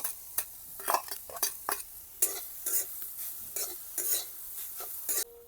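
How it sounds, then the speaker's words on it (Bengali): A spatula scrapes and stirs grated coconut in a wok in quick irregular strokes, with a soft dry sizzle of it frying underneath, close up. "কড়াইতে দিয়ে ভালো করে ভেজে নেব"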